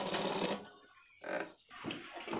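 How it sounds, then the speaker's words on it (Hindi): A sewing machine stitching fabric for a flower latkan runs in short close bursts with brief pauses between them, its motor whirring at moderate volume. "यहाँ पर इस तरह से हमको बैठा के सिलाई लगा लेना"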